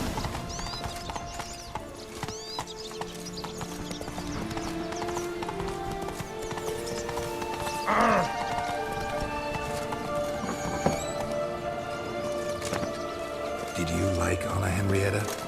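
Roach, Geralt's horse in The Witcher 3: Wild Hunt, gallops with a steady clip-clop of hooves and gives a whinny partway through, all beneath game music and a voice talking.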